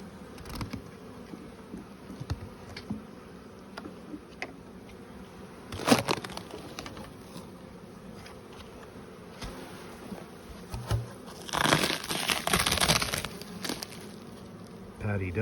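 Honeybees buzz steadily in an open hive, a low continuous drone with louder swells as the colony is worked, with faint background noises and some voices nearby.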